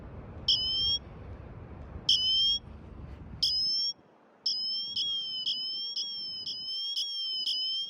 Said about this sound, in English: it means that you can call upon a siren if you're stuck